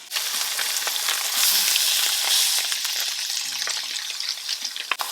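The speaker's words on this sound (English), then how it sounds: "And put these in and make them nice and sizzling hot." Fish fillets sizzle steadily in melted butter in a hot pan, a loud continuous hiss and crackle with spitting pops, close up and without speech.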